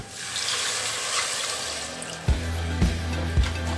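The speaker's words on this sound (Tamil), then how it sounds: "இப்போ நம்ம 5 டம்ளர் தண்ணி சேர்த்துக்கிட்டோம்." Water pours steadily into a pot while making ven pongal, a continuous splashing stream that ends in three distinct knocks or thuds, with no talk.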